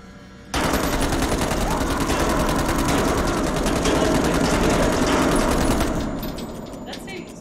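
Rapid automatic gunfire in the horror game Dark Pictures Anthology, a loud, continuous burst of closely spaced shots that cuts in sharply and rattles for several seconds before tapering off.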